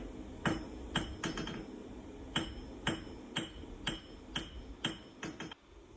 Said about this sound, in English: here you can see the first time ever forging steel in a new workshop